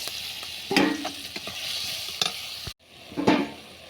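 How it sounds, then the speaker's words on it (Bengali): Spice paste with ginger stir-fried in a pan gives soft sizzling, with scraping spoon strokes and a few sharp knocks against the pan, close up and with no voices. "ভালো করে কষিয়ে নেব।"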